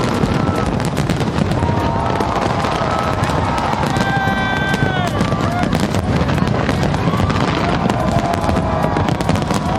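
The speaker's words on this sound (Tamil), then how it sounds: "ஆஸ்திரேலியாவின் சிட்னியில் வான வேடிக்கைகளால் புத்தாண்டை மக்கள் வரவேற்றனர்." New Year fireworks burst over the Sydney Opera House harbour, a dense, continuous crackle of loud pops and bangs with a crowd cheering and whistling underneath.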